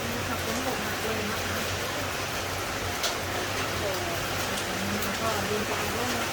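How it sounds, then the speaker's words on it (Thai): Steady heavy rain pours down in a dense wash of noise, with faint gusty texture and no clear voices. "ฝนตกนะครับตอนนี้"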